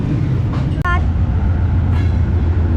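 A Sialkot-to-Karachi train passes the Kot Lakhpat railway station crossing, a steady low rumble of rolling wagons with brief squeaks and a voice talking over it.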